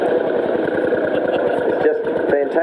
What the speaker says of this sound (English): This is a Model J, 1949. Very unusual little tractor, but a very, very scarce tractor,